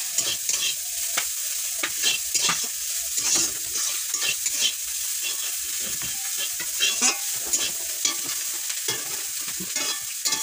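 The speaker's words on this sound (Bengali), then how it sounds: "তো এটা ভালোভাবে ভেজে নিতে হবে যাতে বাদামি বাদামি কালারটা আসে।" Badi frying in hot oil until brown, a steady close sizzle broken by frequent stirring scrapes and clacks of a utensil against the pan.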